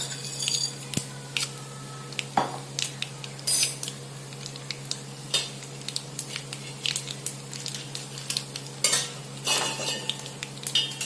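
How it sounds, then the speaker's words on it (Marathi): Small sizzle of urad and chana dal tempering in hot oil, crackling bursts mixed with frequent scraping stirs of a spoon against a pan, no talking. "चणा डाळ घालते फोडणीत 1 चमचा."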